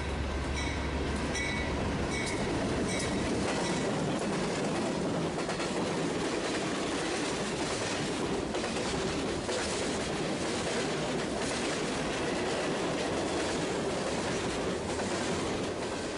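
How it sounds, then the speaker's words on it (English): BNSF manifest freight train powered by 2-9 locomotives rolling past at La Grange, a continuous loud rumble of wagons with clattering wheels and occasional metallic squeal throughout, no voices. "the last train at Lagrange for now was a BNSF Manifest being powered by 2-9s"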